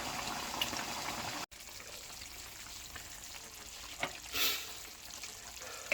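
Chicken adobo sauce simmering and reducing in an open pan over medium-low heat, a quiet, continuous sizzle and bubbling hiss with a brief louder spatter partway through.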